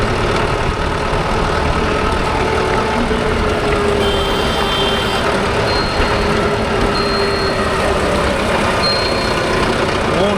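Mahindra Arjun Novo 605 and Mahindra 415 DI tractors drive a rotavator through a field, giving a loud, steady engine drone with a constant mechanical churn that holds unbroken throughout.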